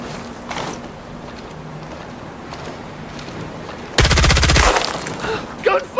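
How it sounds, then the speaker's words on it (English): Gunfire in the tactical shooter Ghost Recon Breakpoint, set on a snowy mission: a sudden loud automatic burst of about a second cuts through steady wind-like ambience, followed by a few scattered sharp reports. "Gunfire!"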